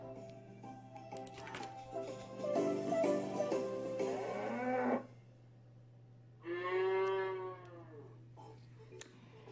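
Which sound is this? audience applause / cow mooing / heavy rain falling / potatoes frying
cow mooing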